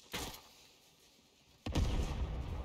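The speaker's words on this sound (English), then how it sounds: "Eat another grenade!" Two grenade blasts in the Fortnite Creative mode Backrooms Infected game: a sharp loud burst, a quieter stretch, then a second heavier boom with a rumbling tail.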